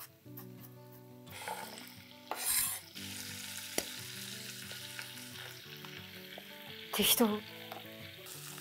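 Paella ingredients are stir-fried in a pan with a steady sizzle and the knock of a stirring utensil, flaring into louder hissing bursts twice.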